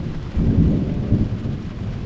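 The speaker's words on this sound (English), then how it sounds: "this storm's just come through. It's really starting to kick off." Heavy rain pours steadily while deep thunder rumbles through it during a storm on a sailing boat in Western Australia, loud and continuous, with no voices.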